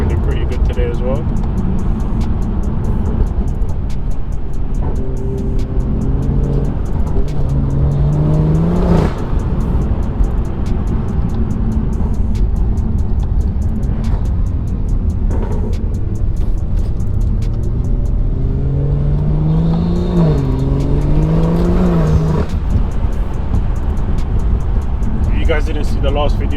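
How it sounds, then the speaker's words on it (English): A car engine drones steadily from inside the cabin, rising and falling through gear changes as it accelerates, with a voice talking over it. "Car's feeling pretty good today as well."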